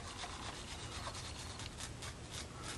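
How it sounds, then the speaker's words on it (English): Steady, close scratchy rubbing of a small sanding stick across a hard scale-model surface of an M-51 Isherman tank, quick repeated strokes with no voices. "just lightly sand it with a sanding stick"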